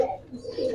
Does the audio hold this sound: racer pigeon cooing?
yes